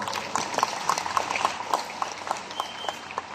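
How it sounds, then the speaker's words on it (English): An audience at a business presentation applauds, a dense patter of many hands with a few stronger rhythmic claps, somewhat distant and moderate in level. "We give this industry a big round of applause."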